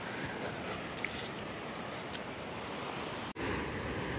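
Sea waves wash up on Majorda Beach in South Goa, a steady broad roar of surf with some wind noise across the microphone, close and continuous, with a brief dropout near the end.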